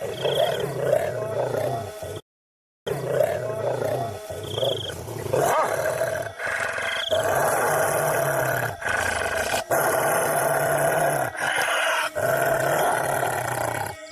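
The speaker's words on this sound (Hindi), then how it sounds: "तभी झाड़ियों में से किसी के गुर्राने की आवाज आने लगती है।" A beastly growl rises from the bushes in a cartoon horror story about a man turned into a werewolf. The snarling and roaring is loud and continuous, breaks off once briefly, and is heavily layered over dramatic sound.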